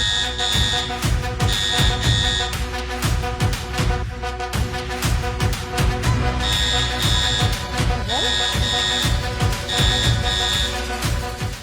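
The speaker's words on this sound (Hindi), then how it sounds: "अलार्म बज रहे हैं" Alarm tones ring in repeated bursts of steady, high beeping after a system breach in a Bollywood film scene, loud over busy music and background noise.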